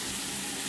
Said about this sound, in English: both the sinks on and the toilet flushing, and pretty good water pressure there